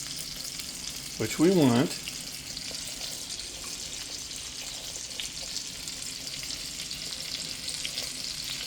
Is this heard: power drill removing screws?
no